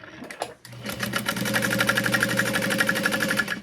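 A sewing machine runs steadily as it top stitches down the side of a thin-fabric sling bag, its rapid even needle rhythm loud and close after a brief start.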